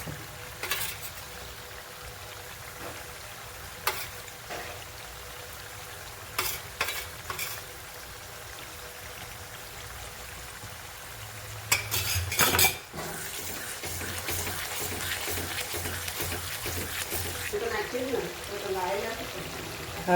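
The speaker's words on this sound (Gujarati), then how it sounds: "હવે તેમાં આદું નાખીએ." Ginger tipped into a hot pan with garlic and red chili for a green turmeric vegetable dish, then stirred; quiet clinks of a utensil give way to a steady sizzle with scraping, under low background sound.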